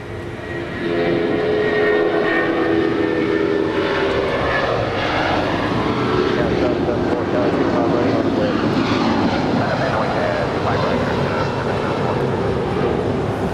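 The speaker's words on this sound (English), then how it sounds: "this is the Polar Air 747 about to touch down and 25 left" A Polar Air Boeing 747 touches down on runway 25 left at Los Angeles International Airport, its loud, steady jet engine roar sustained throughout at close range with no voices over it.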